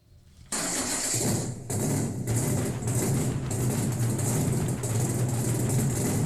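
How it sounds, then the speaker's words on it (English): A powerful car engine starts with a burst and settles into a loud, steady rumbling idle close by, with no talking. "That's the sound of real horsepower, not one of those electric sewing machine cars."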